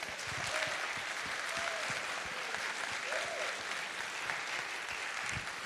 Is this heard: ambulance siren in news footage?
no